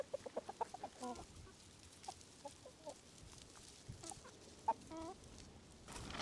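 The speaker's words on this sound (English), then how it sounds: "So yesterday, Luke got this beautiful rooster." A rooster clucks in short, soft bursts at a farm home build in Portugal, scattered and fairly close against quiet outdoor background.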